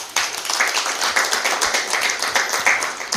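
An audience at a Christian ministers' gathering in Hyderabad claps together, giving a steady patter of many hands at moderate loudness, with no speech over it.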